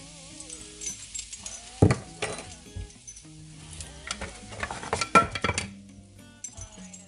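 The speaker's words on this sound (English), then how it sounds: "I'm just frying down my carrot." A carrot sizzling and frying in a pan with curry powder, with utensils clinking and stirring against the pan in bursts.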